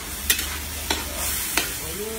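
Eggs fry in a pan at a farm breakfast, a steady close sizzle with three soft scraping stirs spaced about half a second apart.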